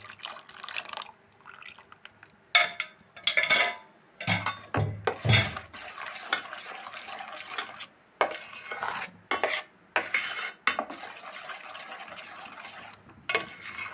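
Payasam stirred in a pot after strained melted jaggery is poured in, giving irregular scraping clinks of a spoon against metal and soft liquid swishes, close and alone without talk.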